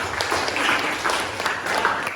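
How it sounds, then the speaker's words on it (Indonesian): A class of students claps together for everyone during a school athletics lesson, a dense, continuous round of applause with no talk over it. "tepuk tangan untuk semua"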